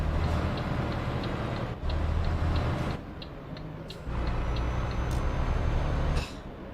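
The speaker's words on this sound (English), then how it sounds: "Why is their engine brakes gotta sound so gross?" In a realistic driving simulation across Norway, Finland and Russia, a truck's engine brake makes a steady, low, rough drone that cuts out and resumes several times, with faint rhythmic ticking over it.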